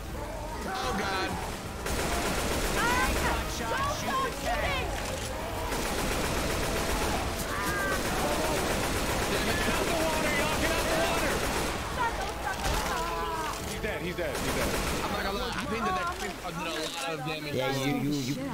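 Rapid gunfire from the Left 4 Dead 2 video game, including an AK rifle, rattles almost continuously under excited chatter from several players talking over it.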